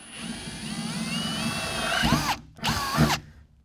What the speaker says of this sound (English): I'm doing my last cut here, my last drill with a quarter inch bit